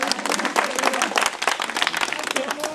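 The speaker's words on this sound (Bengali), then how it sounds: "সবাই তুলে দেই হ্যাঁ বাস তার জন্য করতালি প্লিজ" Applause breaks out for a prize winner at a college picnic, a dense crowd clapping loudly and continuously throughout, close and energetic.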